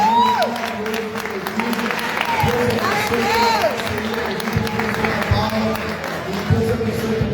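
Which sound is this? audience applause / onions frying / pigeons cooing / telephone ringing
audience applause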